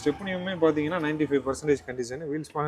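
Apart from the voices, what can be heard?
No everyday noise stands out behind the speech.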